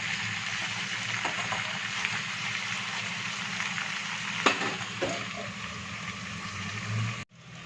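Chilli chicken frying under a lid on a medium flame gives a steady close sizzle and bubbling, with a few brief stirring clatters near the end before it cuts off abruptly.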